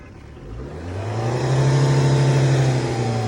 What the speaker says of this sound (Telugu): సార్ ఒకసారి యాక్సలరేషన్ కూడా ఇవ్వండి.